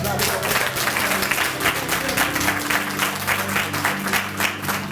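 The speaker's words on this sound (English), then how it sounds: "Let's give them a round of applause." Audience applause at a symposium, dense steady clapping filling the room throughout, with a low sustained musical tone underneath.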